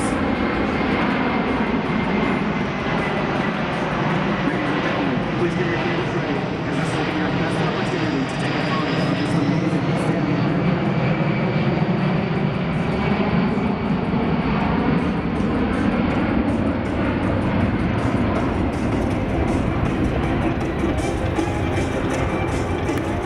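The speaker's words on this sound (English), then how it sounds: "the aircraft will perform a slow speed pass" A Boeing C-17 military transport making a slow-speed pass at an airshow, its jet engines giving a loud, continuous roar that swells and shifts in pitch as it passes, steady throughout.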